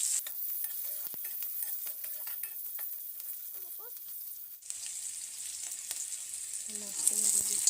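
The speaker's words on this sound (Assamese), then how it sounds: "পিঁয়াজখিনি মানে ৰংচঙীয়া হোৱাকৈ ভাজি ল'ম।" Onions fry in oil in a kadai for a sour fish curry, giving a bright, continuous sizzling hiss with scraping stirs, and the frying grows louder and fuller partway through.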